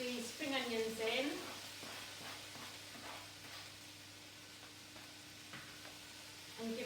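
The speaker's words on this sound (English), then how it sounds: "So I'm just going to add the spring onions in." Spring onions go into a sizzling chicken and vegetable noodle stir fry, giving a steady low hiss of frying throughout, with a voice speaking over the start and briefly at the end.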